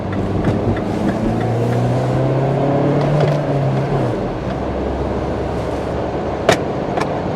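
Cabin of a Mini Paceman All4 with a manual gearbox cruising in fifth gear in cold weather: a steady low engine drone and road rumble, a brief pitch change midway, then an even hum with one sharp click near the end.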